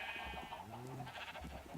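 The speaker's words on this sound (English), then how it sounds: "Look at all these naked sheep." Sheep bleat in a Minecraft world full of freshly sheared sheep. A couple of nasal, wavering bleats sound at moderate volume over a faint background, with no talk.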